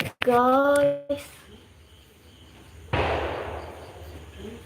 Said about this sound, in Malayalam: പടക്കമാണോ ഇടിവെട്ടിയതാണോ പടക്കമാണ്